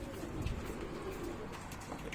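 Low, soft cooing from pigeons or doves, steady and continuous over a hum of background noise, fairly close by.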